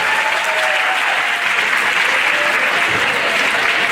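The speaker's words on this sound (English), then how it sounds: "A round of applause for yourself." An audience at a university entrepreneurship orientation programme claps loudly and steadily, a dense, sustained wash of applause filling the whole stretch without pause.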